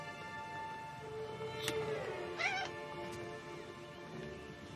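A cat meows a few times at close range, short rising and falling calls over a steady room hum, with no talking.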